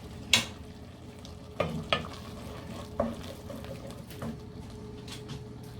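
A spoon stirs simmering chipotle chicken filling in a pan, a few scattered scraping knocks over a quiet steady sizzle, with no talking.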